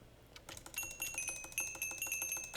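A bell rung repeatedly in Minecraft, with quick, regular chimes that have a bright ringing tone over faint background, with no talk.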